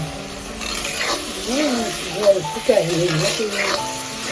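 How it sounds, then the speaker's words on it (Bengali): Banana flower kofta mixture is stirred in a sizzling pan after the lid comes off, with steady frying hiss and a few utensil scrapes under a person talking. "ঢাকনা তুলে ফেলা হয়েছে, খুব ভালো করে নাড়িয়ে নেওয়া হচ্ছে।"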